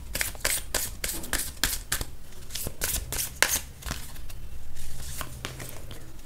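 Tarot cards are shuffled close by in quick, repeated riffling bursts, each a short papery flutter, in a quick irregular rhythm with no talk.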